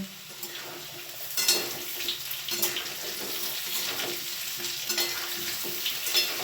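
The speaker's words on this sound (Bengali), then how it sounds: "আমি আরেকবার আলুগুলো নাড়িয়ে নিচ্ছি।" Potatoes for aloo dum are stirred in a frying pan with a steady scraping rhythm over a low sizzle. Occasional louder clinks and scrapes break through. No one speaks.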